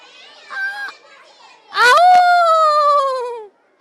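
A dog howls in one long, loud, rising then slowly falling wail, preceded by a shorter, fainter yelp, set against quiet background.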